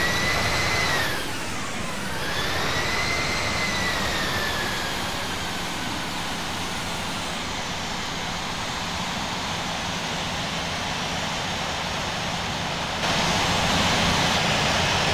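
A jet airliner taxies at an airport in the Infinite Flight simulator, giving a steady loud engine roar and hiss with a whine that rises and falls early on, continuous throughout.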